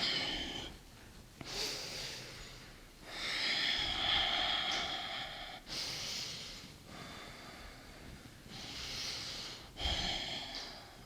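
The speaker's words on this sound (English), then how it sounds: "Breathing gently through the nose." A person breathes through the nose during a beginner lower-body rebounder workout, slow audible inhales and exhales in long airy waves, close to the mic, about four breath cycles with nothing else over them.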